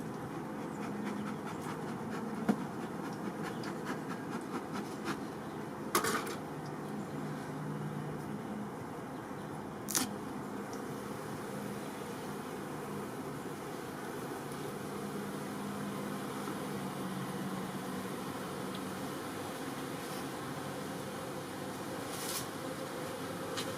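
Honey bees buzz steadily around an opened hive during an early-season inspection after a polar vortex cold snap, a dense continuous hum with a few brief clicks and knocks and no talking.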